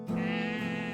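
A sheep sound effect from a game jam video game gives one sustained bleat, close and clear, with a wavering, nasal tone that holds for about a second.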